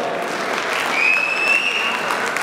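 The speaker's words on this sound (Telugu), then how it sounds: "Give him a big round of applause again." An audience at an Ugadi award ceremony claps steadily for a couple of seconds, a full, even patter of applause with a faint whistle-like tone rising briefly through it.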